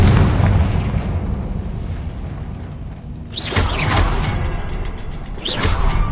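In a Harry Potter video game, a Confringo blasting spell explodes over a rumbling background, with sharp whooshing bursts and booms landing twice in the second half.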